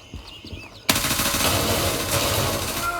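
Automatic weapon fire in the shooter game Gray Zone Warfare, a loud sudden burst that starts partway in and keeps rattling through to the end, following a quieter stretch with faint high-pitched sounds.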